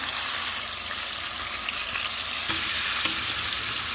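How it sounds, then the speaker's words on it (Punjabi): Oil sizzles steadily in a pan as tadka for chilli paneer gets started, a loud, continuous hissing fry with a couple of small pops and stirring knocks, no voices. "ਹੁਣ ਆਪਾਂ ਤੁੜਕਾ ਤਿਆਰ ਕਰੀਏ ਕਿਵੇਂ ਚ ਆਪਾਂ ਤੇਲ ਸਾਦਕ ਪਾਵਾਂਗੇ"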